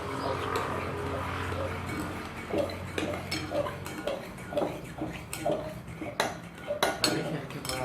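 Orange slime stirred in a bowl with a utensil, repeated scraping clinks and squelchy movement close by, with a faint murmur in the background.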